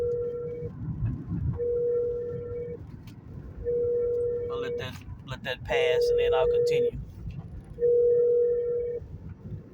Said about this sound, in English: Apologize for my phone ringing.